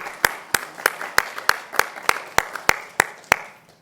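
At a public meeting, hands clap in a steady, evenly spaced rhythm, about three sharp claps per second. The claps sound crisp and fairly close, with no talking over them.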